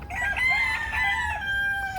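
A small bantam rooster crows close by in one drawn-out, wavering call, with soft clucking beneath it and no talk.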